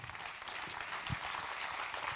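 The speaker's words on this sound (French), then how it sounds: "Je vous demande de les applaudir" An audience at a trophy award ceremony applauds steadily, producing a moderately loud, even wash of clapping from many hands across the room.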